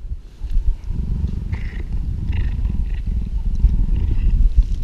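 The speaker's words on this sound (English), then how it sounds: "You can hear him purring." A cheetah purrs close up, a deep rumbling drone with a steady pulsing rhythm that continues throughout.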